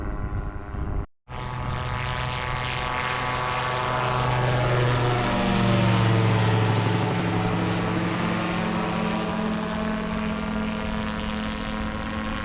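Rotor Sport UK autogyro at the Montrose Air Show in Scotland, a loud droning engine and rotor hum that shifts in pitch as it passes low nearby, steady throughout.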